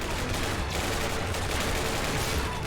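Heavy battlefield gunfire in the video game Ravenfield, a continuous loud wash of overlapping shots and rattling fire with no clear gaps.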